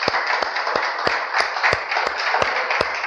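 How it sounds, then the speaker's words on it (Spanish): A church congregation claps along in a steady rhythmic beat, about three claps per second, over a dense wash of applause and music. "Denle un aplauso al Señor, mi hermano."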